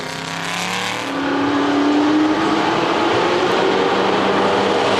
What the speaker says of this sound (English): There's John Sheldon again in that red Chevron B16